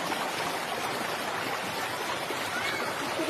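Cold mountain spring water flows steadily in a continuous close rushing wash, with no talk.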